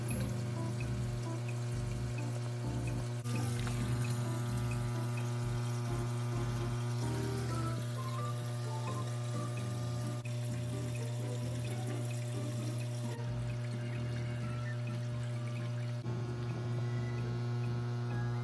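Water runs steadily into a divided betta fish tank over a low electrical hum, a continuous close trickle and pour with no voices.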